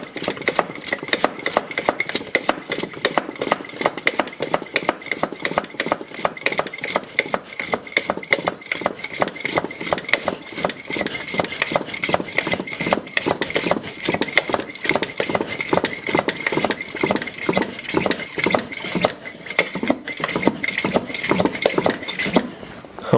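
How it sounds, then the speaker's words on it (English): Hand pump pushing transmission fluid into a Porsche Cayenne, heard as a fast, steady series of rhythmic squeaky strokes and clicks repeating close by for the whole stretch. "Let me pump it now."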